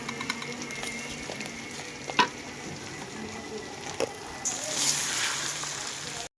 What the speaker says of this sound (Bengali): এটার মধ্যে এখন আমি পোলাওর চালগুলো দিয়ে নেড়ে চেড়ে ভেজে নেব।